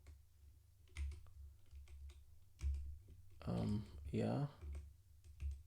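A new custom computer keyboard being typed on, with sparse, quiet key clicks scattered across a few seconds and a person speaking briefly in the middle.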